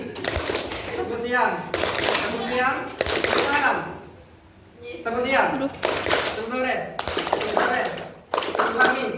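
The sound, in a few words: rhythmic group clapping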